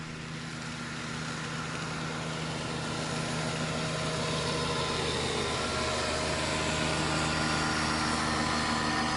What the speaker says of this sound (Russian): Мотор идет.